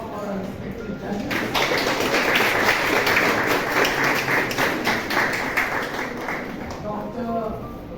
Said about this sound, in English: please give a huge round of applause for our respected judges